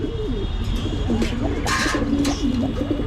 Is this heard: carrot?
no